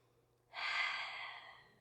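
One slow, soft exhalation taken while resting in a yoga pose, close and quiet, with no one talking.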